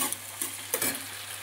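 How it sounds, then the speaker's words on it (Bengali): Onions with ginger and chili fry in a pan for chili chicken, giving a steady soft sizzle with brief scrapes of stirring, close and alone. "পুরো একসঙ্গে ভাজা ভাজা করে নেব।"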